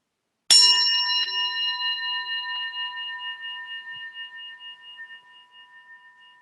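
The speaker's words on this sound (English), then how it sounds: "The following meditation will begin and end with the sound of the mindfulness bell" A mindfulness bell is struck once at the start of a meditation, giving a clear, bright strike followed by a long, pure, shimmering ring that slowly decays over several seconds in quiet surroundings.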